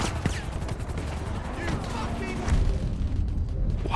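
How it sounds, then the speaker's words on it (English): A passenger fires a gun in GTA 5 during a car chase, producing rapid bursts of gunfire mixed with loud engine and road noise, while someone talks over the chaos. "The passenger's shooting."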